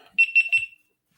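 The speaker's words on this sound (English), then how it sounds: "Beep, beep, beep indeed." Three short electronic beeps from a GoPro action camera, evenly spaced and fairly loud and close, then silence.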